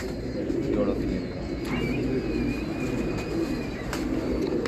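Pigeons kept for kabootar bazi cooing in soft low bursts near a loft, with a continuous murmur of people talking and faint background noise.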